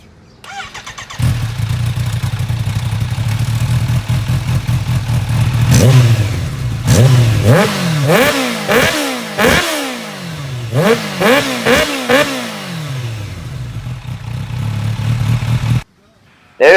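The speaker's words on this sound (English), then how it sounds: "I'm sure you want to listen to supercharged Yoshimura sound." A supercharged Kawasaki Ninja H2 fitted with a Yoshimura exhaust starts and idles, then revs sharply in a series of quick, loud throttle blips before settling back to idle and cutting off.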